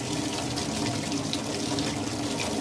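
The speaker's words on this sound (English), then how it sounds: "it's important for you to wash the surface of your avocado" Tap water runs steadily over an avocado being washed at a sink with bleach, a continuous close splashing rush with no talking.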